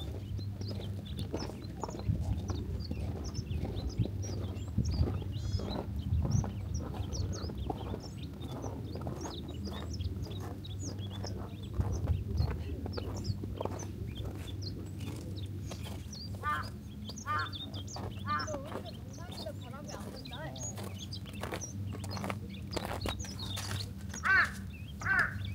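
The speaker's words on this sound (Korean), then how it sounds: "새소리가 들리시죠? 새가 이 정상에 상당히 많이 있더라고요." Birds call on the summit of Geomdansan, a mountain near Hanam, with a crow-like caw standing out. Their chirps and caws are scattered and moderately close, over a steady low rumble of wind or distant background noise.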